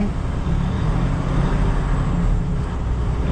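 A car's wheels spin and slip on a light covering of fresh snow in Montreal as it tries to pull away, a steady low engine drone and rumble running continuously throughout, close and fairly loud.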